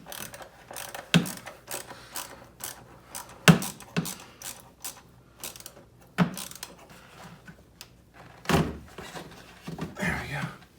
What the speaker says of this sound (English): let's go ahead and get this one loose too, and we'll just take that whole intake tube off.